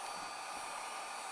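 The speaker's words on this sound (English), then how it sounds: "I use the Wagner hair dryer, and this will allow you to heat shrink" A Wagner hair dryer runs steadily at close range, heat-shrinking a wire fitting during electrical work on an old fibreglass boat; a continuous airy whoosh with a motor whine holds unbroken throughout.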